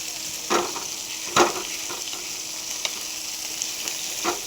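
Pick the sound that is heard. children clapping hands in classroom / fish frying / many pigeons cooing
fish frying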